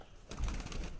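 Pigeons cooing in a home loft where one bird has just laid an egg, soft low throaty calls repeating over a faint hiss, fairly quiet and close.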